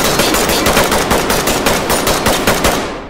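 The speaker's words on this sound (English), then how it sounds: "Watch where you're shooting! I shot my own guy." Automatic gunfire in the tactical shooter game Ready Or Not comes as a rapid, evenly spaced burst of loud, close shots lasting a few seconds, with no talk over it.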